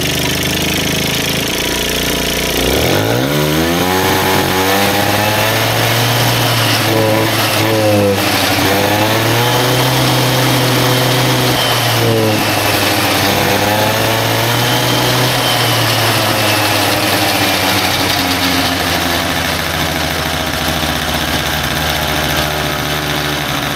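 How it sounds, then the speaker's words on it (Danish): A rebuilt short Minarelli moped engine, prepared for 70cc racing but untuned, starts abruptly and keeps running with a loud, buzzing two-stroke drone that rises and falls in pitch as it revs, close by and continuous. "Og nu vil jeg lige starte den op, og den er overhovedet ikke indstillet på nogen måder, men blot for at demonstrere, hvordan den starter og kan køre rundt."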